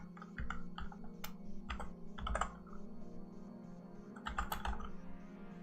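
Someone typing a command on a computer keyboard, irregular bursts of close, quiet key clicks with short pauses between groups, over a low steady hum.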